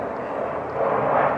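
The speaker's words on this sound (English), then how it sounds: "y'all hear the airplanes?" Military airplanes flying overhead in Korea, a broad, steady engine roar that swells slightly louder toward the end, heard alone without talk.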